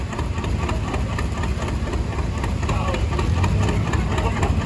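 A 1955 tractor idles during a small-town power parade with a steady, loud, close rumble and faint rhythmic knocking, all without a break. No one speaks over it.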